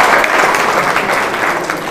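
Loud, dense applause from an audience fills a classroom-style event, steady clapping throughout with no voices over it.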